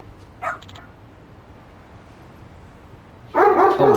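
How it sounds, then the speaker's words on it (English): A dog in the Lost Judgment video game gives a short yip near the start, then a louder burst of barking and whining at the end, close and clear over a quiet game background. "Oh wow, a dog, so cute."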